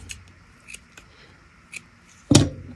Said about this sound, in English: Then cut the yarn